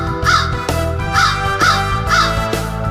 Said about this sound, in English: Big black crow sitting on a tree. What are you squawking about?